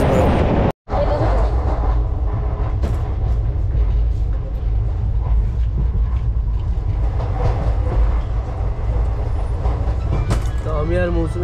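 Inside a moving passenger train travelling from Kharagpur to Goa, a loud, steady low rumble and rattle of the carriage continues throughout, with rhythmic clatter from the track and people talking over it.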